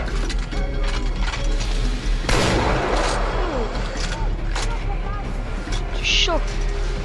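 A sharp sniper rifle shot in Far Cry 4 cracks loudly mid-clip and trails off, set against game ambience and other mechanical sounds, with someone talking throughout.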